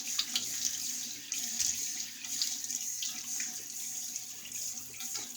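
Tap water runs steadily into a sink to wet a Rubberset 400 shaving brush early in the morning, a continuous close splashing stream with no talk.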